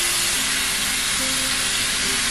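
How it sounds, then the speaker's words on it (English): Beef searing in a hot pan for birria tacos makes a loud, dense, continuous sizzle and hiss that stays steady and close throughout, with no talking. "So we about to sear. We're gonna brown it."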